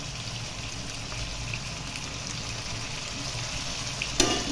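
Cut cluster beans tossed into a hot pan with garlic paste for a tomato curry, frying with a steady low sizzle and crackle throughout, and a sharp clatter of a utensil near the end.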